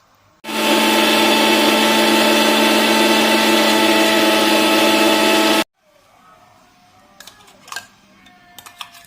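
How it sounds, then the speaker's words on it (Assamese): A loud electric mixer grinder whirs steadily for about five seconds while it grinds pudding ingredients, then cuts out abruptly, leaving a few faint clicks and knocks close by. "এইখিনি এতিয়া মিলা মিক্সিত মাৰিম"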